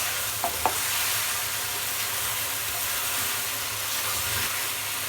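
Shing fish being stirred into frying spice paste in a pan gives a soft, continuous sizzle, with a couple of light scraping clinks near the start and no voices.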